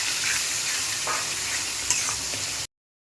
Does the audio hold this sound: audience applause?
no